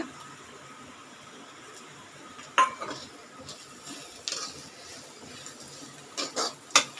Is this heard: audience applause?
no